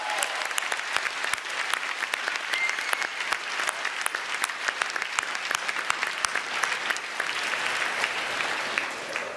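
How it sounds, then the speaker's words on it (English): A hall full of people at a Munk Debate applauding steadily, dense clapping sustained throughout with no voices over it. "A big round of applause"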